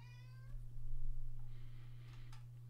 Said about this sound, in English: Kitty cat, shut up.